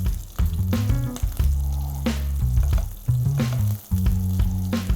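Cumin seeds, green cardamom pods, a cinnamon stick and slit green chilies frying in hot oil for a dhaba-style egg curry, giving a steady loud sizzle with stirring and pan scrapes running through it, no talking.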